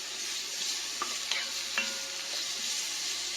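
Bacon pieces stirred and loosened in a small frying pan, giving a steady soft sizzle with a few scraping clicks from the utensil as the stuck pieces are pushed back and forth.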